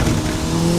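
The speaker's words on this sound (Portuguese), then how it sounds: "Agora é o barulho do Honda, mas o Honda Turbo nunca faz um barulho do mundo." A turbocharged Honda car engine holds a loud, steady buzzing drone up close, its pitch rising slightly as it revs, with no talking.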